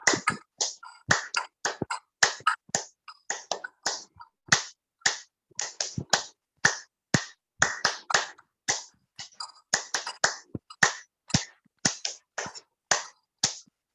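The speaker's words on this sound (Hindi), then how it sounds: "गहरा श्वास भरते हुए ताली वादन करिए।" Group hand clapping during a morning yoga session, sharp distinct claps in loose uneven clusters, fairly close and crisp, with silent gaps between each slap and no talking.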